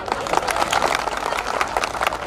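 Dense, continuous clapping from an audience of men, steady and fairly loud throughout with no voices standing out.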